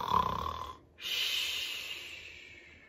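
A group of people, children and an adult, imitate a bear's big snore during a winter storybook reading, giving a breathy, snorting inhale followed by a long rasping exhale, moderately loud and without words.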